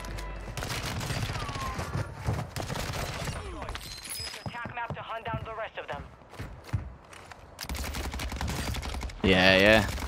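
Rapid bursts of automatic fire from the Cronen Squall rifle in Call of Duty Warzone on Vondel Park, crackling in repeated volleys with game effects over the top, while a person talks throughout.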